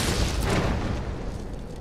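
A single deep, rumbling explosion from the horror game Resident Evil 3 Remake fills a brief moment with a loud, broad blast that stays sustained and slowly fades.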